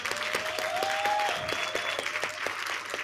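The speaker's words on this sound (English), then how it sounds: "we just really give them an applause of thank you." A summit audience gives a sustained round of applause in thanks. The dense, even clapping fills the room for about three seconds, with a faint tone ringing underneath.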